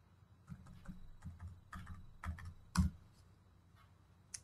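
Fingers type on a computer keyboard while logging in to an AccuTrack staff panel, producing scattered close clicks and short bursts of keystrokes with one sharper press near the middle, in a quiet room with no talking.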